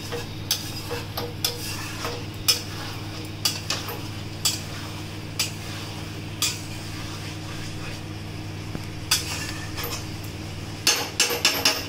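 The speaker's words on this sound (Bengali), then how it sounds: "ভালোভাবে আমি এই মশলার সাথে আমাকে ভালোভাবে পটলটাকে এবারে কষাতে হবে" A spatula works pointed gourd through masala in a pan, giving a steady series of sharp scraping taps about once a second over a low, constant background hum, fairly quiet and with no talking.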